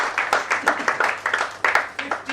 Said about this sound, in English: So let's clap for Yuko Bank.